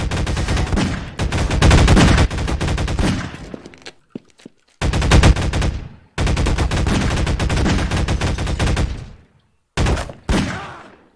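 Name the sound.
gunfire in Half-Life 2 Deathmatch video game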